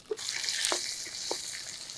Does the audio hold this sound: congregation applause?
no